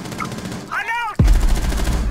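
A loud, close gunshot from the tactical shooter game Rainbow Six Siege booms suddenly after a brief voice, followed by a rumbling tail and continued rapid crackle of gunfire.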